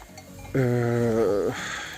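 A goat or sheep gives one loud, wavering bleat lasting about a second, close by against a quiet outdoor background, as goats and sheep that had been penned for days are let out to graze.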